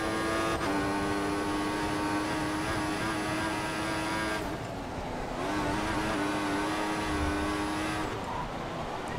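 Formula 1 car from the F1 2014 racing game at the Austrian Grand Prix, engine screaming up through the revs in two long accelerating pulls with a brief gear-change dip between, loud and steady with no talk.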